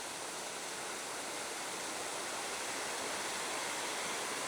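Lake water on Hainan Island spills over into a waterfall, making a dense, continuous roar of rushing water that stays steady and even throughout, with no voices.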